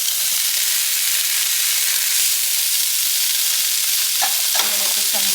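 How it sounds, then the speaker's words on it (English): Onion and red peppers fry in a little olive oil with cilantro, a loud, continuous close sizzle broken by a few brief stirring scrapes near the end, no talking. "I'm going to just fry all this in that little olive oil that I have in there."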